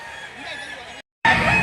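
Roosters crow at a chicken sale in the Lipa City, Batangas livestock auction market on an early morning, calls overlapping near and far, a sharp cut of silence midway before a louder crow.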